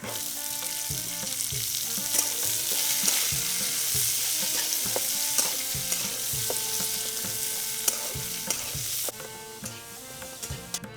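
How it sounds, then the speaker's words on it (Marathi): Pigeon peas sauté in a pan with a little garlic, a steady sizzle under repeated scraping and clinking of the spatula that runs through the clip before thinning out near the end. "आता तुरीचे दाणे सोडलेले परतून घेऊ"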